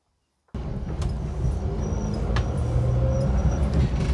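A 1970s Ford Escort Mk1 commercial van with a 1.1 litre Kent crossflow engine drives along. After a moment of silence, a loud, steady engine drone and road rumble cut in abruptly and continue.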